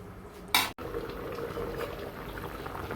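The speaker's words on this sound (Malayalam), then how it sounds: "അരി തിളച്ചിട്ടുണ്ട്." Rice and water bubble at a steady boil in a pot, with a short clatter of a utensil near the start.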